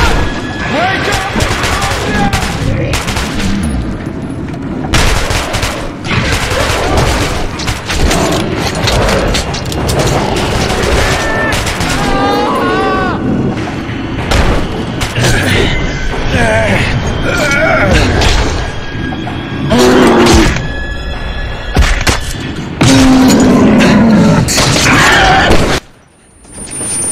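Gunfire and explosions from the Metro 2033 Redux video game, dense and loud throughout with bursts of shots, booms and mechanical clatter, mixed with shouted voices and grunts.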